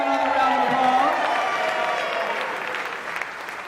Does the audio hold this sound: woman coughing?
no